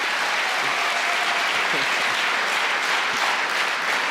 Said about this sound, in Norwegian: En applaus til dere.